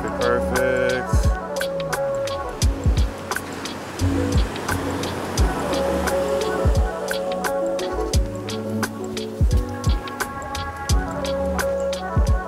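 Ocean waves surging onto a beach during a golden-hour photo shoot, a broad rushing wash of surf rising and falling, with loud sharp clicks and knocks from nearby handling scattered throughout.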